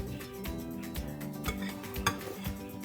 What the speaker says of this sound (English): And then you're just going to give that a mix